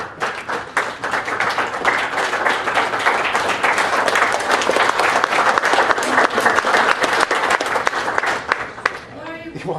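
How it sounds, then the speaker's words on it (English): A graduation crowd breaks into loud, sustained applause, dense overlapping claps holding steady throughout with voices mixed in underneath. "He walks in the room and everyone's applauding."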